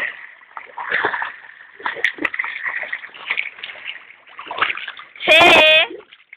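Someone splashes through water while swimming, with uneven slaps and sloshes scattered across the span and a louder burst near the end, as voices shout and talk throughout.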